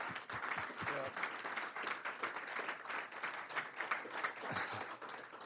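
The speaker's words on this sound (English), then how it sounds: "And I got to give you an applause." An audience at a Chino city council meeting claps for honored individuals, a steady, fairly quiet round of applause heard from a distance, with a few sharper individual claps standing out.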